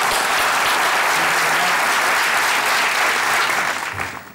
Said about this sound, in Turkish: Onur Gökçek geliyor alkışlarınızla